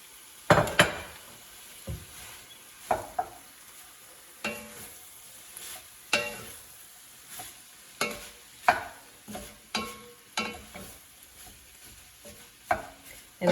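Pancetta and ground meat sizzling in a pan while being stirred, with a steady soft fry under repeated scraping and clinking of a spoon against the pan, close and fairly quiet.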